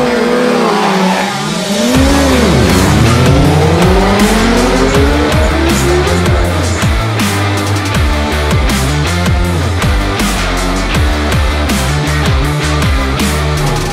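Motorcycles race flat out in an 8-mile Suzuki Night Run sprint on a Berlin airfield, engines screaming loud and close with rising and falling revs as bikes shift and pass, continuous throughout.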